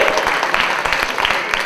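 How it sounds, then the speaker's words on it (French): Audience at a slam poetry competition claps for a performer after his scores are read, brisk close applause with distinct individual claps over a short burst. "On applaudit Ben."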